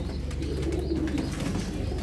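A bird calls steadily, with soft cooing over a constant low rumble of background noise.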